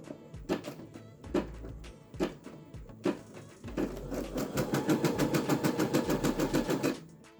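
An embroidery machine stitching, starting with spaced mechanical thunks, then settling into a fast, steady clattering rhythm of needle strokes, close and fairly loud, with no talk.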